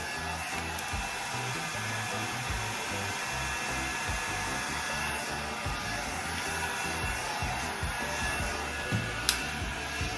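A handheld hair dryer blows steadily while drying hair, a loud, continuous close-up whoosh with a faint whine, holding an even level throughout with only small fluctuations as the airflow moves.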